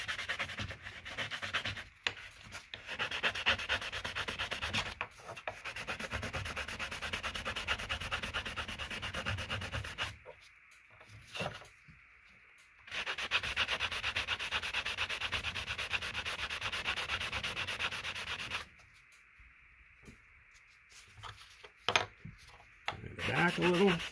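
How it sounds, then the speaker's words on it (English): A small handheld sander works a pewter zebra keyfob with a steady gritty rasping drone, stopping briefly twice before starting again, up close. "so then we can take on this side and our little sander"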